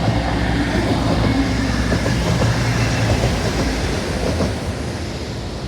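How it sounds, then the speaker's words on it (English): A train rolls past along a seaside seawall, a steady loud rumble and rattle of wagons that holds for several seconds and then eases slightly as it moves on. "we've also got a special guest in the form of a train"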